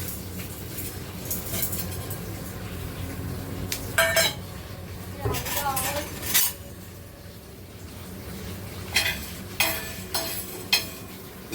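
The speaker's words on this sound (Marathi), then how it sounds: "डाळ आणि ही अर्धी डाळ भाजून घ्यायची" Chana dal is dry-roasted and stirred in a pan, giving a few sharp clinks and scrapes of the spoon against the metal over a low background rumble, with faint voices in the distance.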